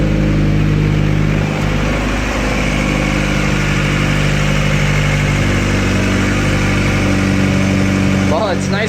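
A Honda Accord engine idles steadily after a high-idle fault was fixed, a close, even rumble, with a brief rise at the end.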